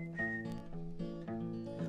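A folk singer whistles to imitate a little bird, a run of short bright chirping notes over steady guitar accompaniment in a 1954 folk song recording.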